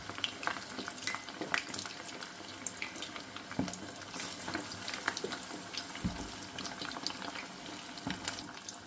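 Chicken wings deep frying in a pan of hot oil, a steady crackling sizzle with scattered pops and spatters running throughout, close and fairly quiet, with no talking.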